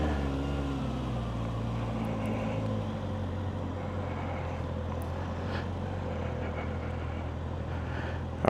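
A 2025 Kawasaki ZX6R runs steadily on its first ride, a smooth continuous engine drone heard close, with a few faint clicks and no talk.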